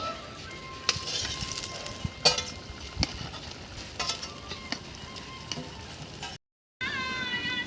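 Fish frying in hot oil in a home kitchen, a steady loud sizzle and crackle with occasional sharp clinks of stirring, cut off by a brief silence before the sizzle resumes.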